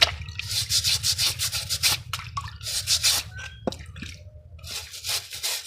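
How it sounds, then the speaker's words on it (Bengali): Soaked bricks are scrubbed clean with water in repeated rubbing strokes, close and steady, with drips and a few small clinks mixed in. "আধা ঘন্টা মতো ভিজিয়ে এখন আমরা ইট পরিষ্কার করছি"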